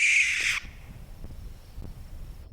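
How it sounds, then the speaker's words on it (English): An owl gives a long, harsh shrieking call that lasts about half a second, loud and close, then fades into quiet outdoor background. "their call is a long shrieking noise"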